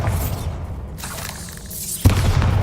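A Bombarda blast spell goes off in Hogwarts Legacy, a sudden loud boom near the two-second mark with a crumbling, shattering tail, set over a continuous bed of low rumbling game ambience.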